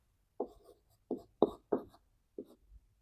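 Chalk or marker strokes on a board during a Hindi grammar lesson, five short separate scratchy bursts spaced through a few seconds, close and fairly quiet with no talking.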